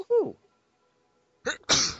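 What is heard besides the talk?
someone sneezing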